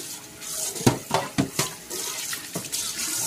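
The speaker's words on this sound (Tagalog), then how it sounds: "babalawan natin siya ng tubig para matanggal yung asim." Tap water runs and splashes over banana blossom in a sink, with uneven swishes as the pieces are rinsed up close.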